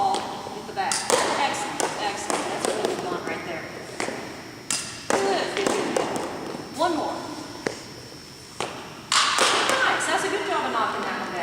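Baseballs are bunted with a bat at practice, sharp knocks and thuds recurring every second or two, mixed with footsteps and scattered talk nearby.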